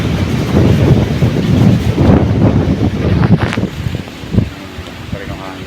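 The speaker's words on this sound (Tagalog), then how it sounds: "Ang lakas pa rin ng hangin" Strong typhoon wind buffets the microphone in loud, uneven gusts with rustling noise, surging and easing in waves, with a louder burst near the end.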